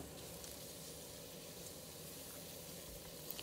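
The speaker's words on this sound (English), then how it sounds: "Then I start sauteing the garlic, ginger, and onions, followed by our marinated meat." Garlic, ginger, onions and marinated beef sautéing in a pan for beef and broccoli, giving a steady, low, continuous sizzle with no stirring strokes or talk.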